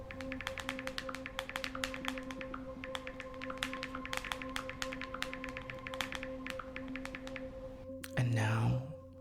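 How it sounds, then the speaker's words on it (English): Long acrylic nails tap rapidly and irregularly on a phone screen, a close series of crisp clicks, ending in a brief breathy vocal sound. "This is you doing the same 5-star rating with a full set of acrylics."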